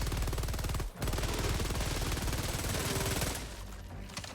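Rapid sustained bursts from the Stalwart machine gun in Helldivers 2, loud dense automatic fire with a brief pause, then the shots tapering off near the end.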